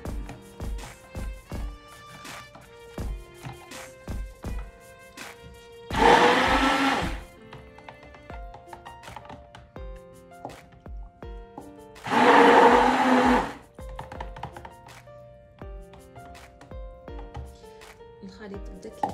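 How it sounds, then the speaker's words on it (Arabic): A stick blender mixes a soap mixture in two loud, steady bursts of whirring, each lasting about a second and a half, separated by quieter stretches with background music and clatter. "ملي كنخلطو وكنعليو هاد الخلاط ديالنا هيدا السكبندر"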